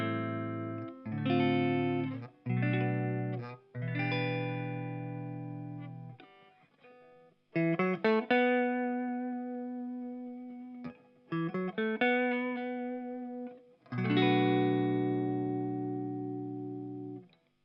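Electric guitar on its neck pickup through a repaired Dallas Scala tube amp, with strummed chords and single-note phrases in uneven bursts separated by short pauses, smooth and slightly overdriven, close and alone.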